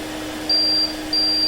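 Chefman electric pizza oven timer sounding when the pizza is done: two steady electronic beeps, each lasting about a third of a second, over a quiet appliance hum.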